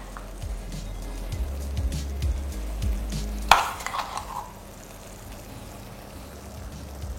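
A spoon stirs poppy seed paste into potato and pointed gourd cooking over a low flame, with low scraping and soft stirring rumbles through the first half, one sharp clack of utensil on pan midway, then quiet simmering.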